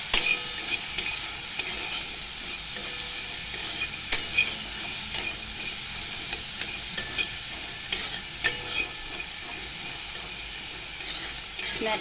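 Chickpeas roasting in a pan over a medium gas flame, a steady close sizzle and hiss with occasional scraping clicks from stirring, no voices.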